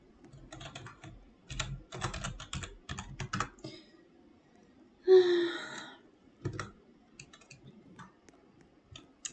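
Fast typing on a computer keyboard during a Roblox Piggy game comes in quick bursts of close clicks separated by pauses, with a brief sigh-like sound in the middle.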